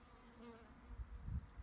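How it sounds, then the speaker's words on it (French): Bees in a field in Alsace, a faint steady buzzing hum close by with a few soft rustles and bumps underneath. "Petites abeilles, elles sont là."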